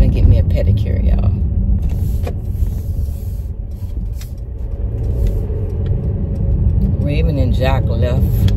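Inside a moving car, a steady low road rumble and engine hum fill the cabin throughout while someone talks over it.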